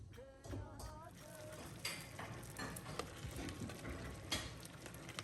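Ghee cooking slowly in a pan at home gives a soft, steady sizzle with light clinks and scrapes throughout, and a voice is briefly heard near the start.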